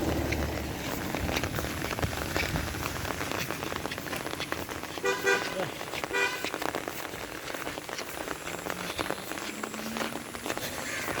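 Rain patters steadily outside a private car on the move through rural Dhobaura in the monsoon, a dense continuous hiss with brief honks of a vehicle horn partway through.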